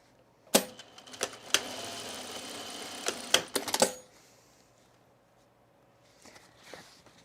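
A sewing machine stitches a skort waistband seam in one short run of about three seconds, a fast whirring hum punctuated by sharp clicks. It then stops abruptly, leaving near silence with a few faint handling sounds.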